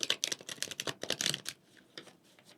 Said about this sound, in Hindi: मैं कार्ड्स को डिफरेंट तरह से शफल कर रहा हूँ